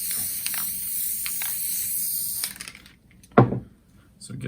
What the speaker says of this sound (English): I'm gonna do spray adhesive on this and I'm gonna stick it to my board